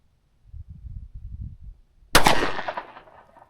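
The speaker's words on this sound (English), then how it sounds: "I don't need to add to it with the short barrel 10mm explosion" One loud, sharp shot from a short-barrel 10mm Glock pistol firing bear-load ammunition cracks close by, then rings and decays over about a second, preceded by low muffled rustling.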